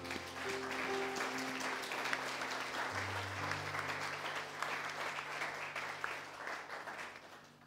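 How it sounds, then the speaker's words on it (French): A church congregation applauds during a Sunday worship service, steady dense clapping that fills the room throughout, with a low sustained tone humming beneath it. "on peut applaudir le roi des rois ce matin"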